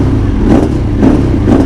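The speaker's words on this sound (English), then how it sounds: "I think right now it's my best sounding motorcycle" A motorcycle engine revving loudly and close, with three surging pulses of throttle over a steady rumbling idle.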